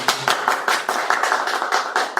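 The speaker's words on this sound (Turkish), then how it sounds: "Bir de alkışlayalım." A group claps together in a steady, rhythmic beat, each clap sharp and evenly spaced, with no voices.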